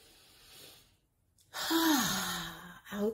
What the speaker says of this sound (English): let's take another deep breath. Breathe in through your nose.